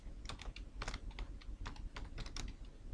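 Code being typed on a computer keyboard, a quick, uneven run of close key clicks and taps with short pauses between bursts, no voices over it.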